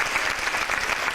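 A crowd at a performance claps loudly and continuously in a brief burst of dense, even applause with no break.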